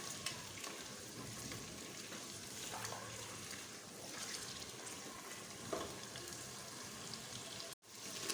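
Mutton pieces browning in a pan, a quiet steady sizzle and crackle of frying meat with faint scraping, fairly soft and continuous.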